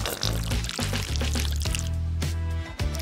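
Acrylic paint poured into a bowl holding flour and glue for a craft dough, a short thick pouring sound up close over loud background music, without speech.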